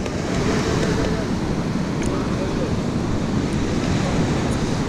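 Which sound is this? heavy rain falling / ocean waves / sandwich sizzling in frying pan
ocean waves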